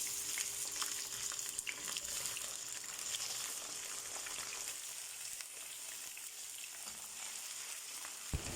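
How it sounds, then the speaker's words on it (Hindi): Chicken sizzles steadily in a pot, a faint continuous frying hiss with occasional scraping as it is stirred. "तो हम इसे खूब अच्छे से भून लेंगे और अच्छे से हिला लेंगे"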